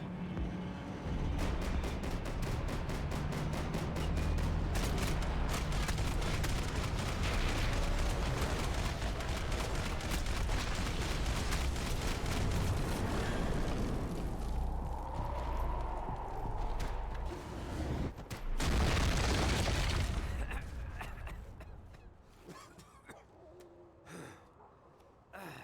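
Rapid gunfire from shooting-game combat in Max Payne 3, with dense bursts and impacts running nearly throughout, briefly easing then surging again before fading near the end; voices shout over the action.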